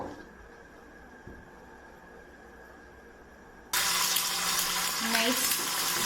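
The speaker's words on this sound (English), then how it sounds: "I'm going to add my oil and then start frying the eggs" After a few seconds of quiet background, a loud, sudden sizzle erupts and continues steadily as eggs fry in hot oil in an Elite Gourmet 8-quart electric skillet.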